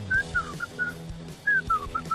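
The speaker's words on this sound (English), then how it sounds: "Stop whistling" A person whistling a short tune in quick, lilting phrases, clear and fairly close, with a brief pause midway and soft background noise underneath, no speech.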